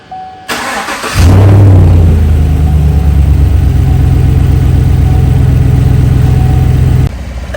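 A 2015 Chevrolet Silverado pickup's 5.3-litre engine cranks briefly and catches, then settles into a loud, steady rumble with slight revving, running continuously until it cuts off near the end.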